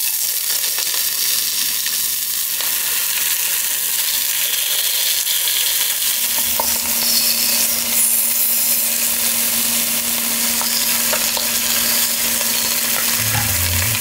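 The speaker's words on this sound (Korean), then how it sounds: "올리브오일을 두르고 마이야르를 시작합니다" Bone-in beef short ribs sear in olive oil in a pan, giving a loud, steady sizzle and crackle that runs throughout, with occasional clinks and shifts as the meat is moved, and no talking.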